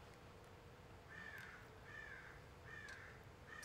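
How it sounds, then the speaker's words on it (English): Crows caw outside at some distance, four evenly spaced harsh calls over a faint steady background hum. "the outdoors is currently full of crows making noises that my cats like"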